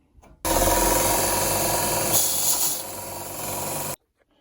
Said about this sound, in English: So I'll do it with the belt sander.